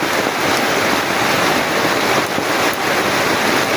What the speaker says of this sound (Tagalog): dahil sobrang lakas ng ulan